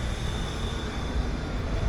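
A tram rolling through Sofia, Bulgaria, heard from inside the car as a steady, loud low rumble of wheels and motor with a faint high whine running along it and no talk.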